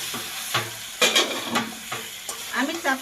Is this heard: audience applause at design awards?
no